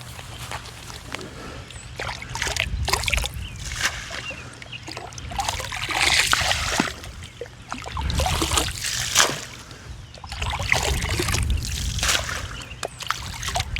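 A cup is rinsed out in a garden pond during a blue pond dye treatment, giving steady close trickling, sloshing and splashing water that rises and falls in waves throughout.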